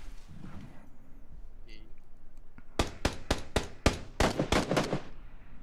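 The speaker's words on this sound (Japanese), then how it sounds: "銃声。" Gunfire in the battle-royale game PUBG during a squad match, a rapid run of about a dozen sharp, loud shots in quick bursts, following a stretch where players talk quietly.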